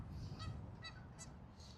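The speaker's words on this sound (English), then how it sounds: "And we got the geese squawking" Several geese honk in a quick burst of harsh calls at moderate distance in a park at sunrise, over steady wind rumble.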